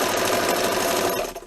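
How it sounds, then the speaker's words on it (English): An automatic zigzag sewing machine of unknown make runs steadily, a dense continuous mechanical whir with a rapid stitching rhythm, close and fairly loud, easing off slightly at the very end. "Now, it's called a zigzag machine, automatic zigzag sewing machine."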